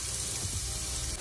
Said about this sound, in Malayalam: കുറച്ച് വെളിച്ചെണ്ണ ഒഴിച്ചു കിട്ടാം. കടുകും ഉലുവയും കൂടി ചുടാം. അത് പൊട്ടിയെടുക്കാൻ